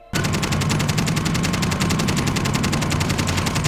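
RPD machine gun firing in Call of Duty Warzone, a loud, close, sustained automatic burst of rapid, evenly spaced shots running unbroken for several seconds with no talking.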